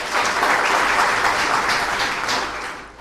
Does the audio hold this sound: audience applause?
yes